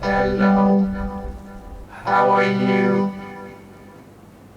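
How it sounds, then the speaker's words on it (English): A voice processed through a keyboard vocoder, giving two short robotic, synthesized phrases with a buzzy harmonic tone. "This is a vocoder."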